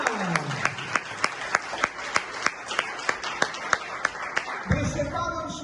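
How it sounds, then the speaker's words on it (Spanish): A church congregation claps during a Sunday service, a steady run of sharp, rhythmic claps close by, with voices speaking and calling out over it before a musical sound sets in near the end. "Dale un fuerte aplauso a Jesús hoy esta mañana."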